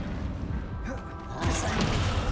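A fiery Confringo spell blast in Hogwarts Legacy, a mechanical rumble that bursts into a louder crackling impact midway, short and close.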